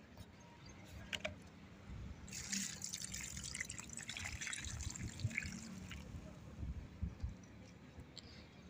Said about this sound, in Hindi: मनी प्लांट और ब्रह्म कमल के भी पेड़ को पानी दे दिया है।